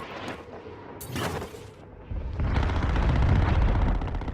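Bursts of AK rifle fire in Call of Duty Warzone Mobile, with a sharp shot cluster early on, then dense, loud rumbling gunfire and explosive blasts filling the second half.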